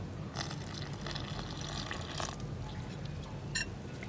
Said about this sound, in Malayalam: ഇതിലേക്ക് നമുക്ക് കുറച്ചായിട്ട് വെള്ളം ചേർത്ത് തിക്കായിട്ടുള്ള ബാറ്ററാക്കി എടുക്കാം